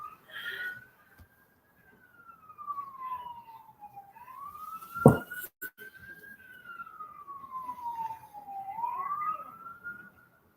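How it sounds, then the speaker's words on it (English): One wailing siren outside, a police-type tone sweeping slowly up and down, moderately distant and steady for about ten seconds, with a brief sharp knock partway through. "And I hear sirens."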